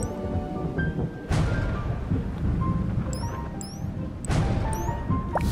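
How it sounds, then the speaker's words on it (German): Thunderstorm effects in the puzzle game Azkend 2: two loud thunder cracks roll over a continuous rumbling rain-like wash, with brief chiming game tones scattered through. "Oh nein, Gewitter."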